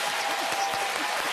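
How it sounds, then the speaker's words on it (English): A television studio audience claps on cue, a brisk, even burst of applause lasting just over a second, fairly loud and continuous with faint thumps mixed in. "Make them clap."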